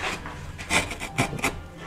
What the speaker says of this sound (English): you can only take a small shaving at a time with the router plane